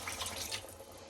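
Water runs steadily into a cooking pot holding chicken and onions for Moroccan bastilla, a close, continuous splashing stream with no talking.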